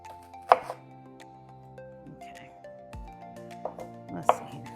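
A knife chops a red onion on a board in a few sparse, crisp strikes, with a steady background hum and tonal ringing between the cuts.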